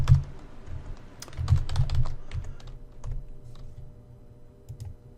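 Computer keyboard typing as details are entered into an online form, with irregular bursts of close, crisp keystrokes that thin out and grow fainter toward the end, with no voices.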